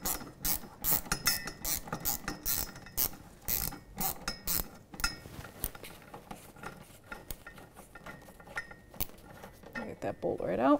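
A quarter-inch drive ratchet clicks rapidly in bursts while loosening a bolt near the drive shaft of a 2013-2018 Toyota RAV4, close and metallic, thinning out toward the end.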